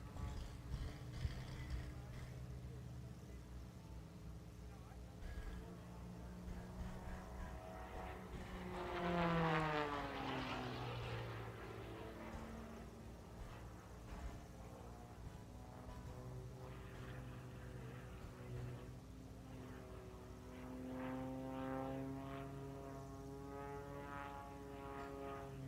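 A propeller airplane performs aerobatics at the SUN 'n FUN airshow, its engine whining and sweeping in pitch through climbs and tumbles, rising and fading at a distance over a steady background hum, with a commentator talking at times.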